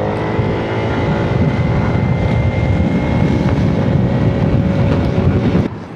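A Hero Xoom 160 scooter is revved and accelerates from around 50 km/h, giving a steady loud engine roar mixed with heavy wind rush before cutting off abruptly at the end.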